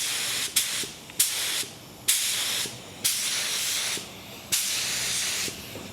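Epoxy primer sprayed from a paint gun onto car body work and filler, a loud close hiss in repeated bursts of about a second each, separated by brief gaps with small clicks as the trigger releases.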